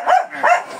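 Puppies barking, two short high-pitched yips close by, one after the other in under a second.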